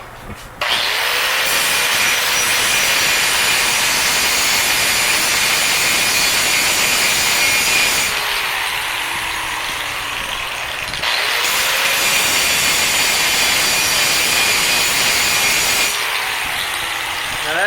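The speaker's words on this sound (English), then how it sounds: "I'm going to hit it with the grinder just a little bit" Angle grinder with a grinding wheel working metal on a Nissan Hardbody truck, loud harsh continuous grinding in long bursts with brief lulls where the wheel spins down, close up.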